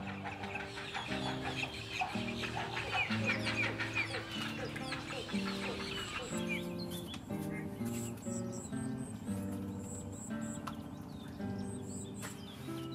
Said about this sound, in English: The young birds are hungry and urging their parents to go in search of food